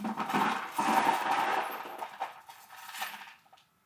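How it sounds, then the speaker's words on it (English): A bunch of small beads rattles and clatters inside a container, with a dense cluster of clicks that thins out and stops near the end, close up and alone. "I'll do this over here so it doesn't make too much noise, but there's a bunch of beads in here"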